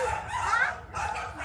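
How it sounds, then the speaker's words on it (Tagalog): Several dogs bark and yip at a distance, overlapping and fairly faint, with a whimpering tone mixed in. "Daming mga aso sa kabila."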